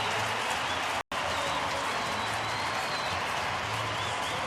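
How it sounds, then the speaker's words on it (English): Crowd applause at a Houston at Philadelphia baseball game as Victorino comes up to pinch hit, a steady broad wash of clapping across the stands with one brief dropout, faint commentary underneath. "It's a nice round of applause for Victorino"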